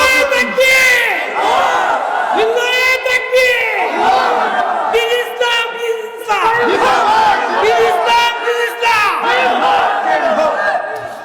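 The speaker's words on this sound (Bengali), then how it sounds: "না, এত ধীরে হলে হবে না, জোরে সোরে তাকবীর দিতে হবে, লিল্লাহি তাকবীর" A large crowd at a religious sermon gathering roars a takbir chant in loud unison, several rising and falling waves of massed shouting filling the space, with a leading voice calling between them.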